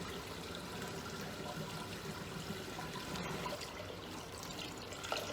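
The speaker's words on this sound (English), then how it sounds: "got to wash our hands" A tap runs steadily while hands are washed before baking cookies at home, a soft continuous splash and trickle of water, fairly quiet and close, with no talking.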